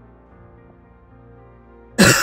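After a quiet stretch of low hum, a single loud, abrupt cough bursts out right at the end.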